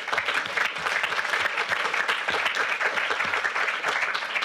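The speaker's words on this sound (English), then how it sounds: "a short round of applause for Agatha and Bruno" Sustained audience applause at a panel conversation event, many people clapping together in a thick, even roar that carries throughout without any speech over it.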